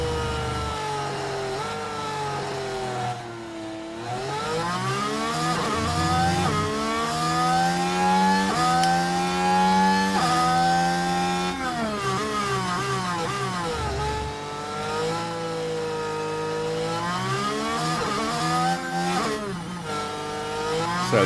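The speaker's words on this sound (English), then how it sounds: "Do we have engine noise now?" Formula 1 race car engines in the F1 Manager 24 game at the Las Vegas round scream and rise in pitch through gears, several cars overlapping loudly for twenty seconds with no talk.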